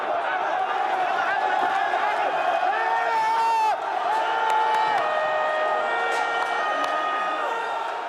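A vast crowd of protesters in Egypt's Facebook Revolution roars in a continuous, dense wash of voices and chanting, with musical tones layered on top and no break in the noise.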